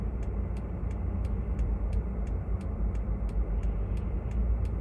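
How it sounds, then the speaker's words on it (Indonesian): A car's heater blower fan runs at a raised setting while driving in a snowstorm, giving a steady, loud rushing hum with road rumble beneath. A crisp ticking repeats at a regular, quick pace throughout. "Kalau kalian dengar suara blower ya itu heater"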